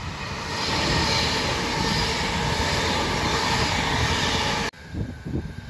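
Train running along a railway track, a loud, close, steady rumble and roar that continues for several seconds. It cuts off abruptly, leaving quieter scattered noise.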